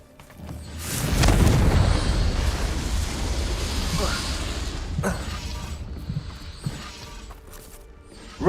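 A Confringo spell blast in Hogwarts Legacy erupts as a loud, sustained roaring burst that decays slowly over several seconds, with a few sharp crackles and thuds near the end.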